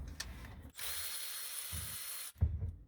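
A ratchet on a 3-inch extension turns out 12 mm intake manifold bolts on a Yamaha TR1 engine from a 2017-2024 EX or VX watercraft. A continuous close motorized whir runs for about a second and a half between brief knocks.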